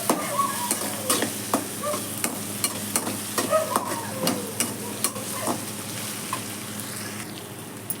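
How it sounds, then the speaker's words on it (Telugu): Ginger garlic paste frying in a pan gives a constant close sizzle, punctuated by a series of sharp spatula taps and scrapes spread through the clip. "అల్లం వెల్లుల్లి పేస్ట్ పచ్చి వాసన పోయేదాకా ఫ్రై చేసుకోవాలి"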